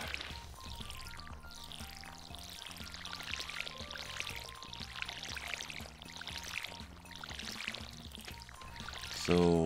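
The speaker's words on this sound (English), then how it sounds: "watering eventually gets more exciting, right?" Watering can watering crops in the video game Stardew Valley, with repeated soft pouring and splashing water effects laid over steady melodic game music, moderately loud and without talk.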